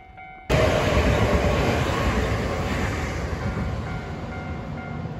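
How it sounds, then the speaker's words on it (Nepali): A train arrives at a station in Japan with a sudden loud rumble that starts abruptly and holds steady and close, the heavy roar of rolling cars filling the air. "ट्रेन आइपुग्न लागेको छ"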